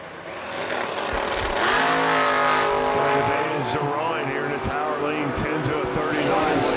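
Drag racing cars, including a Camaro, launch at a drag strip with a loud engine roar that climbs steadily in pitch as they pull away, while an announcer talks over it.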